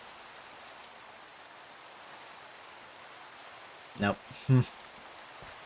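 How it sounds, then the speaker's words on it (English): Rain falls in a video game as a soft, even hiss that holds steady throughout, briefly broken near the end by a short spoken word. "Fortunately, it's raining, which is dumb, bad."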